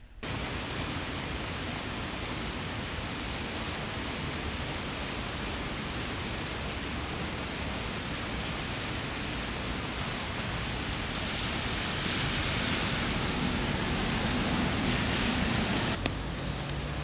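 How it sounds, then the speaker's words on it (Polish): Heavy rain pours steadily over a town street during a multi-day downpour, a dense, loud, continuous hiss that swells slightly toward the end, with no talking. "To już kolejny dzień wielkiej ulewy nad Mysłowicami"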